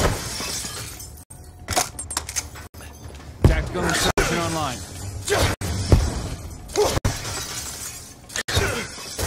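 Window glass shattering in a first-person shooter, several sharp crashing bursts spread through the stretch along with other game noise, under a voice.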